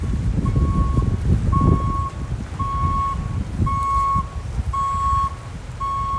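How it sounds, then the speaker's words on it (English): A van's backup beeper sounds a steady series of six evenly spaced electronic tones while reversing outdoors near the Blue Water Bridge in Michigan, over a rumble of traffic and wind. "Got a van backing up out of here. It's got the backup beeper. That's what you hear there."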